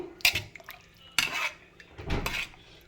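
Brinjal sambar being stirred in a pot after sambar powder goes in, with three distinct spoon scrapes and clinks against the metal in close succession, near and fairly loud, with no talking.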